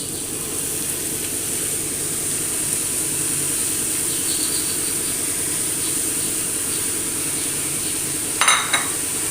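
Potatoes and chopped fenugreek leaves being stirred in a hot pan for a North Indian side dish, giving a steady soft sizzle and hiss with faint scraping, plus a brief clatter near the end.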